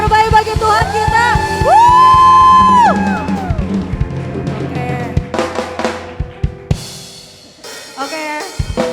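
Youth crowd at a Christmas church celebration cheering, whooping and yelling, loud and close, with sung or shouted voices and rhythmic music elements before the noise breaks into scattered shouts.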